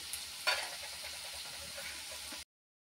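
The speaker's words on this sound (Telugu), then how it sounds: "వీటిని బాగా ఫ్రై చేసుకోవాలి. Onions fry అవనితో" Onions frying in a pan for a mushroom fry, giving a steady close sizzle and crackle with a brief louder spatter near the start, then cutting off abruptly.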